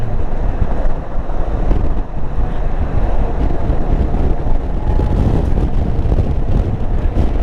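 Heavy wind roar buffets the microphone while riding a motorcycle, a dense, continuous rumble with no pauses and no talking.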